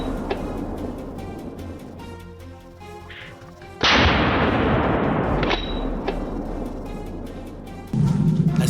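A hunting rifle fired at a wild boar: one sharp, loud shot bursts out and rolls into a long fading echo, followed later by a second heavy thump.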